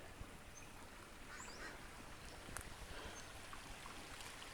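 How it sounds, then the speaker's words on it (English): Steady, fairly faint rushing of a creek along a hiking trail in Flinn Springs County Park, San Diego area, continuous broadband water noise with no talking. "There's even a creek going right now."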